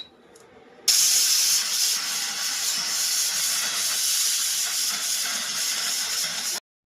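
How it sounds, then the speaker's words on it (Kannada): A pressure cooker cooking khara pongal releases steam in one loud, sharp, continuous hiss that bursts on suddenly and holds steady for several seconds before stopping abruptly. "ಕುಕ್ಕರ್ ಬಿಟ್ಟಿದೆ."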